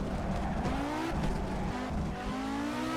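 An Audi Quattro S1 rally car in the Assetto Corsa racing game, on a paved stone surface at Highland, revs hard with a continuous engine drone while its tyres squeal and scrub as they break traction.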